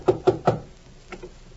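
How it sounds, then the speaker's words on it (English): Three quick, firm knocks on a door in an even rhythm, followed after a pause by two softer taps, close and alone without talk. "I'm knocking at the door."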